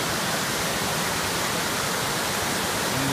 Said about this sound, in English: Just on the side of the road is a waterfall.